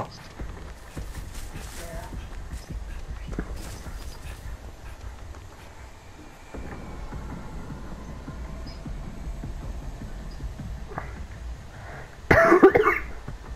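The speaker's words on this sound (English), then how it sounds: "Sorry about my coughing, guys." A gamer coughs a few times, short rough bursts scattered across quiet background noise, with a louder cough near the end.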